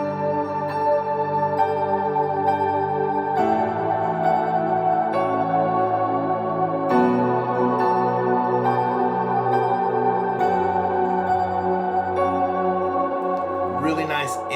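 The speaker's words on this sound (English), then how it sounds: "the first part of the bridge breaks down as kind of more of this ambient piano lead" An ambient piano lead keyboard patch for a bridge section swells with heavy shimmer and reverb, sustained chords shifting every few seconds over a low pad, evenly loud and alone.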